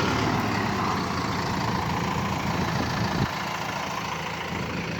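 An 80-horsepower tractor engine idles steadily in a vineyard with a low, even rumble throughout, close and continuous, with one brief knock near the end.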